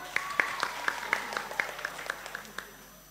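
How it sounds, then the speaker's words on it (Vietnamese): Sparse, faint applause at a church Bible quiz final, roughly a dozen distinct claps in a steady rhythm that gradually fade. "Một tràng vỗ tay."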